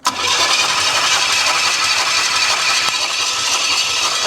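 A long-neglected Pontiac Trans Am engine cranks and catches, then keeps running with a steady, loud, rough idle and some rattle, close by with no talk.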